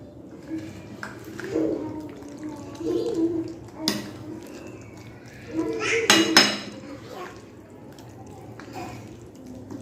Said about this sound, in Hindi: अब इसमें आपने शामिल कर देना है कॉर्नफ्लावर और मैदा दोनों, 1-1 टेबल स्पून। इसको मिक्स करेंगे।